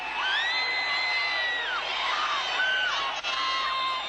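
A crowd cheers and whoops at the Bathurst 1987 podium presentation, a loud continuous roar of voices with high yells rising and falling throughout.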